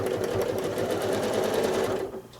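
A sewing machine stitches free motion quilting lines in a basket block, a fast, steady mechanical whirring chatter close up that slows and fades near the end.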